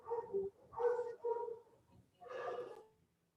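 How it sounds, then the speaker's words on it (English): Several dogs bark in the distance, four muffled, drawn-out barks with short gaps between them, faint and alone. "listen to all those dogs barking"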